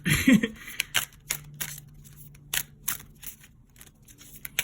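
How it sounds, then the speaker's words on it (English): A deck of tarot cards is shuffled by hand in a series of quick riffles and soft flicks, close and fairly quiet, with irregular pauses between bursts. "I know it seems like I'm just shuffling a lot because I know the decks are pre-shuffled"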